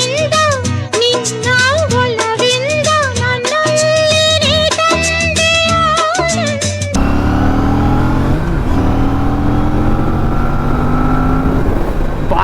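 Music plays at first, then an Aprilia RS 457 motorcycle with a 47 bhp engine is ridden, its loud, close engine note climbing in pitch as it accelerates through the gears.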